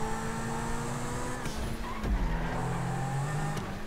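A racing car's engine in the video game GTA 5, heard during a race, with a steady droning hum that shifts pitch as the car accelerates and changes gear, staying loud and continuous throughout.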